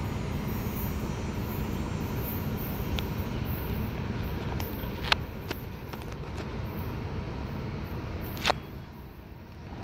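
CP intermodal freight train passing on a northbound run, a steady, broad rumble of rolling cars with a few sharp metallic squeals and clanks scattered over about ten seconds.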